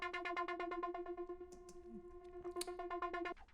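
A synth sound processed by the Unfiltered Audio Biome plugin without pitch bend, heard as a steady stuttering sequence of rapid pitched pulses with a bright tonal buzz, faint and alone, with brief noisy accents mid-way.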